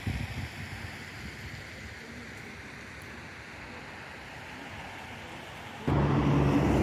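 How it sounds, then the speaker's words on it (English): Steady broadband roar of road traffic carries through a lakeside walk near the Ternopil Hotel, a continuous distant wash that swells louder and closer in the last second. "I can hear the roar of the traffic in the background, as I'm sure you can too."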